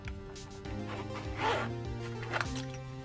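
A zipper on a case for an EX11 titanium balisong butterfly knife is pulled open slowly in a few rasping bursts, close and fairly quiet, with some handling rustle around it.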